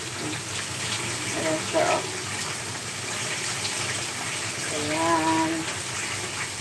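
Tap water runs in a steady rush while tilapia is washed before cooking, with brief splashes and a person speaking briefly over it.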